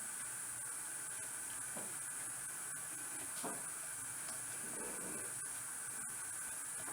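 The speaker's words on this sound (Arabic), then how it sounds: "شويه زيت، نحطو فيها الثوم" Garlic sizzling in a little hot oil for a homemade tomato-style sauce, a steady bright hiss that holds evenly throughout at low level with occasional faint stirring scrapes.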